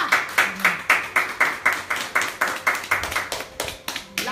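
A church congregation claps in a steady, fast rhythm of close, crisp hand claps that continues without a break for several seconds.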